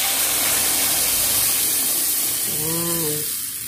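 Water is poured into a hot frying pan holding fish, producing a brief loud spray and hiss that settles into a sizzle, with a short voice near the end.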